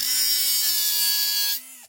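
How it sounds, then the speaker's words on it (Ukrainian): An angle grinder runs steadily against a piece of metal, a loud continuous high whine held for about a second and a half before it drops in pitch and spins down to a stop. "Ось, беремо болгарку, беремо кусок металу."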